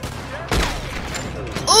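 Gunfire in the Red Dead Redemption 2 video game: two loud shots with sharp onsets about a second apart, the first booming with low rumble and the second followed by bright ringing tones near the end.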